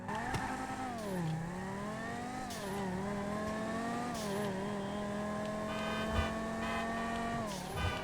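Banshee sports car engine in GTA Online, revving and shifting through gears with a steady rising drone and a prominent rattly, tambourine-like jingle on top, fairly quiet and continuous.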